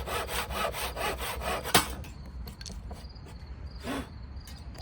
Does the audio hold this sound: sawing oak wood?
yes